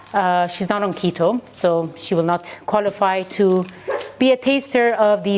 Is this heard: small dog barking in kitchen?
yes